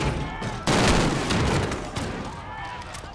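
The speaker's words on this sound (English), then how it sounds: "Oh, the FAMAS again." A FAMAS rifle fires a loud, sustained burst in Call of Duty Modern Warfare, clattering rounds rising abruptly and rolling on for over a second before trailing off into echoing battle noise.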